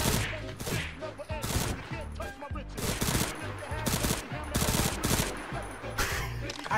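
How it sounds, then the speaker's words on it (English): Rapid, sustained gunfire in Unturned on a roleplay server, dense overlapping shots and bursts in quick succession with faint voices underneath. "Yo, stop shooting at us."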